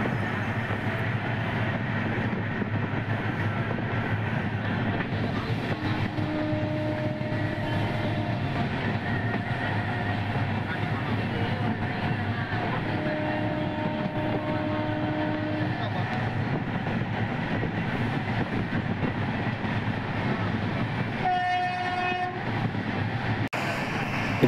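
Madurai to Kacheguda special express train running near Thittai station past Thanjavur, a steady loud rumble of rolling wagons throughout with a couple of brief horn tones and a short burst of clatter near the end.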